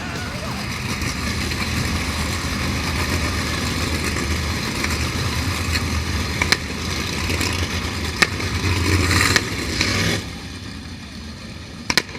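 305 sprint car engines rumble and rev at Attica Raceway Park, a loud sustained engine drone with a few sharp pops, swelling before dropping off near the end, while an announcer talks over the noise.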